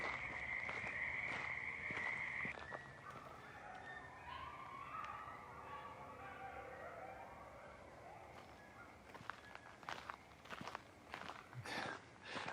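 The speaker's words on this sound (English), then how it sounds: "I got frogs and coyotes going at the same time now." A played-back recording of frogs croaking together with coyotes calling. The frog chorus is steady and dense throughout, with higher wavering calls in the first seconds and scattered sharp knocks later. No one speaks.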